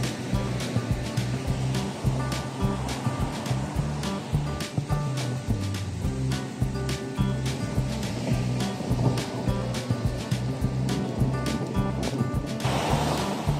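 Strong, large ocean waves break at Dalugan Beach in Casiguran, Aurora, a continuous loud roar of surf with wind buffeting the microphone and no voices.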